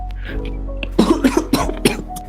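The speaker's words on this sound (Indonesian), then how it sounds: "maaf. ada sesi batuk." A short fit of several rapid, close coughs in a row, with a throaty rasp, following a brief low murmur.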